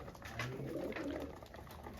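Pigeons in a coop give soft, low cooing calls, two brief coos close by, faint against quiet background hiss.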